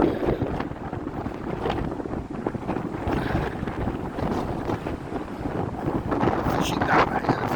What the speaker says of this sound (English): It's not that bad here actually, the wind.